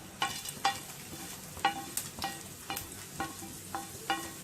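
Crushed garlic, chana dal, urad dal, mustard seeds and cumin crackle in hot oil for a carrot potato fry, a faint, steady sizzle broken by regular stirring scrapes and no voices.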